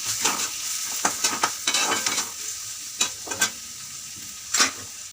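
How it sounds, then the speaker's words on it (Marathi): Onions fry in oil for bhurji, a soft steady sizzle punctuated by repeated sharp scraping strokes of a spatula against the pan, close and irregular, with no talk. "कांदा आपण मस्त सोनेरी रंग येऊस तर भाजून घेऊया"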